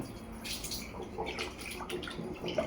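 Lentils for gongura dal are swished and rinsed in water, with gentle sloshing, splashes and small drips close by, no voices.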